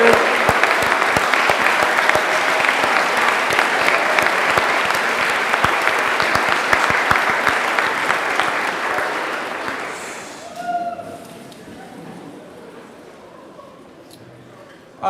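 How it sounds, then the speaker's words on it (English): A school honors day audience gives a sustained, loud round of applause with a dense wash of clapping for about ten seconds, then fading to scattered claps and room noise. "Give yourselves a big round of applause."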